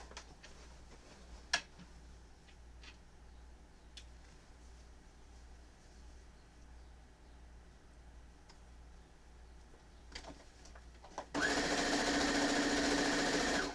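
A sewing machine stitching quilt kit pieces starts up abruptly near the end, a loud steady whirring run after a quiet stretch with a few light clicks and knocks, no talking.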